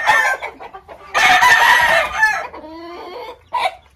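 A gamecock crows loudly and close by, a long strained call, with a few short clucks before and after.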